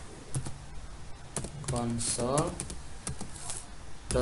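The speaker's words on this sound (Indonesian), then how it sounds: "Oke, berikutnya lagi kita ketikkan lagi ya, console" Close, rapid clicking of a computer keyboard as JavaScript code is typed, with irregular keystroke bursts under someone speaking.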